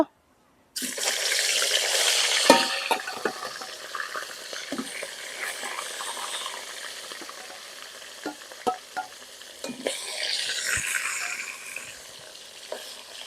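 Katla fish pieces fry in hot oil, a loud continuous sizzle that starts abruptly and holds steady, with occasional pops and utensil knocks, no talking over it.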